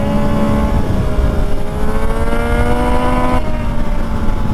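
Several three-cylinder motorcycles ridden in a group, a Triumph Daytona 675, a Triumph 765 RS and a Yamaha MT-09, with a loud, steady engine drone and rising harmonic whine as one accelerates, then a sudden drop in pitch near the end over heavy wind rush.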